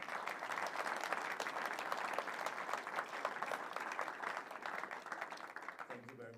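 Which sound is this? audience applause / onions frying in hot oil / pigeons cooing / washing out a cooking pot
audience applause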